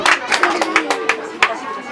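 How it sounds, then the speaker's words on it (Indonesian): Scattered hand claps from an audience at a preschool children's performance, a handful of sharp, uneven claps across a couple of seconds, moderately close, with some voices mixed in. "kita tepuk tangan untuk adik-adik kita"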